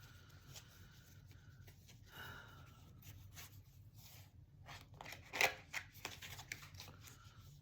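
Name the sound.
shuffling and pulling cards from an archetype deck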